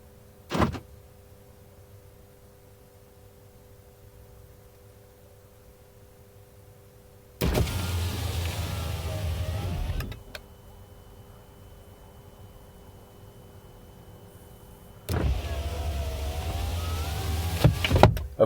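Two bursts of a Chevrolet Volt's electric window motor whirring, each lasting a few seconds, separated by quiet with a low steady hum and a brief click at the start.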